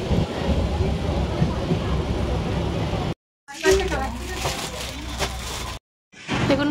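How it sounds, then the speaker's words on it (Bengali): A passenger train pulls into a station with a low rumbling roll for a few seconds. Abrupt silent cuts follow, then busy platform noise with people talking and clattering. "এবার ট্রেন থেকে নামবো।"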